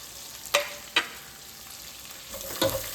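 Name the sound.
sautéing mustard seeds, ginger, garlic and green chili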